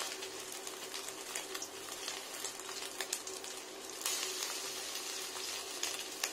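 Fish egg fritters with gram flour, salt and turmeric frying in a pan, giving a steady, soft sizzle and crackle that runs throughout at low volume, with no talking.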